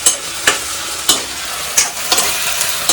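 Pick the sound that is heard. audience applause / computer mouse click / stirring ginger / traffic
stirring ginger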